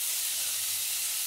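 Sliced chicken drops into a hot pan for a chili paste stir-fry and sizzles loudly, a constant bright hiss up close that fills the whole moment without any talk.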